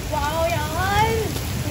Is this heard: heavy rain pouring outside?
yes